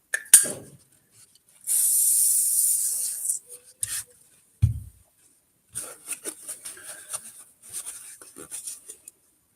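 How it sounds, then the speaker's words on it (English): An aerosol can of WD-40 sprays onto a seized drivetrain in a close, sustained hiss lasting under two seconds, followed by a few short spurts, clicks and rustling handling noises. "It's going to load it up with WD-40."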